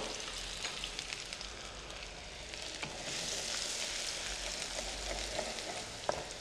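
Onion hits hot oil already crackling with curry leaves and mustard seeds, giving a continuous close hiss and sizzle that swells partway through, with occasional sharp pops and no talking.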